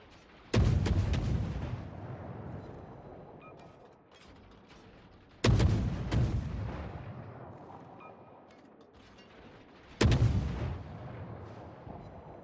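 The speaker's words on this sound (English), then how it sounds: "there are also battleships firing at the König" Battleship main guns firing in the naval combat game World of Warships, three heavy booming salvos spaced about five seconds apart, each a sharp loud blast decaying into a long rumbling tail.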